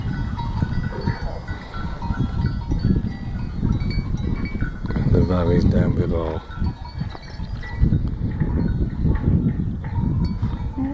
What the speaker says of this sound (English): It's the goats rubbing their bells against the crash barrier.